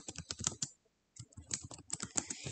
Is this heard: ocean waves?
no